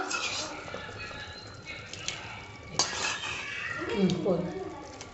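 Paneer goes into a boiling pot for vegetable biryani and is stirred, with metal spoon clinks and scrapes against the vessel over a soft bubbling background, and a voice speaks briefly near the end.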